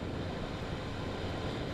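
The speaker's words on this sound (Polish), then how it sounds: "no wiatr wieje" Steady roaring wind rushes past while riding a Honda CB125F motorcycle, a dense broadband buffeting with no gaps and no voices.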